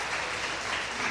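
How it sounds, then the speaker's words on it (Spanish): A church congregation applauds during a Sunday sermon, with dense, steady clapping that fills the whole brief moment at an even level. "Fuerte, fuerte el aplauso."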